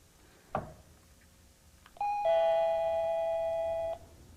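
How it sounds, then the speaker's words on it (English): A single knock or click, then a plug-in electronic doorbell chime rings out with a sustained two-tone ding lasting about two seconds, clear and close. "we have instant doorbell"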